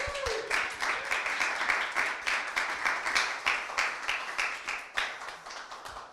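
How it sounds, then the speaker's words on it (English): A small group claps at a coding bootcamp demo day, fairly close and moderately loud, the rhythmic hand claps running unevenly for several seconds with a few louder individual claps standing out. "let's just give a big round of applause for everyone."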